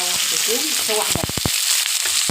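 Peppers sautéing in a pan over lowered heat, a steady broadband sizzle with a few sharp stirring knocks and scrapes close by, no talking.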